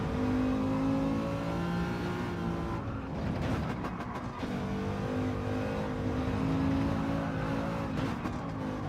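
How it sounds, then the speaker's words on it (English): Mercedes race car engine in a racing video game, revving loudly and steadily with a brief drop in pitch mid-way as it shifts, then climbing again, no talking. "do we rev out this Merc, or change halfway up the rev range?"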